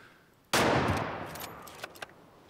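Rifle shot while hunting in Way of the Hunter: one sudden loud crack followed by a long rolling echo that fades, with a couple of faint clicks afterward.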